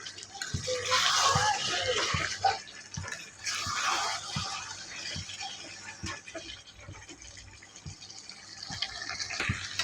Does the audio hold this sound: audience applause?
no